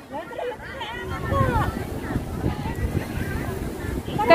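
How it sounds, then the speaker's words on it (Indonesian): Strong wind gusting outdoors around a tent being pitched, a steady broadband rush that swells midway, with people talking and laughing over it throughout. "Anginnya kenceng jadi mereng."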